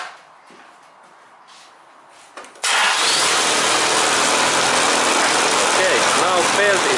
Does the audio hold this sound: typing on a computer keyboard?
no